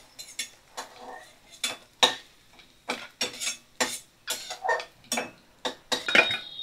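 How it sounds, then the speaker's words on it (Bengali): A metal utensil clinks and scrapes against a pan while lifting fried chickpea lentil dumplings out of hot oil, a steady series of sharp, light taps and clatters, close and fairly quiet. "এবার আমি দেখো সব ছোলার ডালের বড়িগুলো তুলে নিচ্ছি।"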